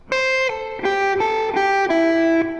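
Clean electric guitar playing a pentatonic lead lick that opens with a pull-off, about six distinct sustained notes stepping downward, close and alone with no talk.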